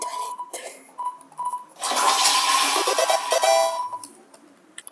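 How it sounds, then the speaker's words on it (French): A toilet flushes with a loud rushing swirl of water lasting a couple of seconds, then drains away, preceded by faint tones and clicks. "Des toilettes."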